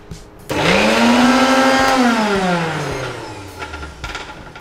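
A kitchen mixer grinder whirs into spices being ground to a paste for achari paneer, starting abruptly with a loud rising motor whine, holding steady, then slowing down and stopping.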